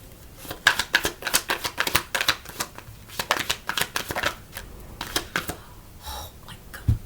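A deck of romance angel oracle cards is shuffled by hand in quick, crisp riffling bursts, repeated several times at close range with short pauses between, in an otherwise quiet room.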